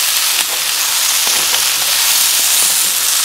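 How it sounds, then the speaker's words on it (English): Chicken, yellow onion and vegetables stir-frying with oyster sauce in a hot pan, a steady close sizzle and hiss with a few soft clicks of stirring, no voices. "I'm gonna cook this until the vegetable cooks."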